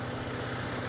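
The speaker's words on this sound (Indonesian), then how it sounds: "Dan ini suara mesinnya" A 2000 Honda Civic Ferio with an automatic gearbox and VTEC engine idles steadily, a smooth, even low hum with a regular pulsing throb and no other sounds.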